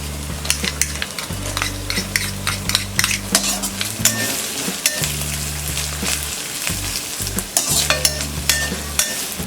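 Onions sizzle and fry in a pan for kala chana pulao after crushed garlic, ginger and green chili, with repeated stirring and utensil scrapes clinking against the pot throughout, close and steady with no talking.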